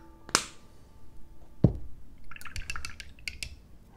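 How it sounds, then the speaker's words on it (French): A paintbrush is rinsed in a pot of water during miniature painting, with a couple of sharp taps against the glass and light splashing, then a quick run of soft clinks and drips. "Je rince mon pinceau toujours."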